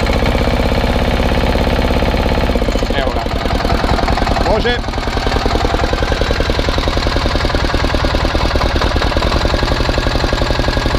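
A BOMAG 230 kg vibratory plate compactor with a Yanmar diesel engine idles while warming up, its steady low throb running throughout and louder throttle changes near the middle, with a person talking over it.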